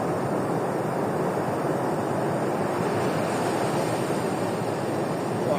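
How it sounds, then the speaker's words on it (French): Ocean waves near Santiago de Compostela roll in as a steady, loud wash of surf, a continuous broad roar with no breaks, wind noise mixed in and no voices. "les vagues"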